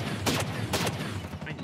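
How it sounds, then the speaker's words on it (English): Scorpion CQB gun firing in the tactical shooter Ghost Recon Breakpoint, a dense continuous stream of rapid automatic shots with sharper bursts standing out, loud and close throughout. "Oh, that's a Scorpion CQB. Damn, that thing was doing damage."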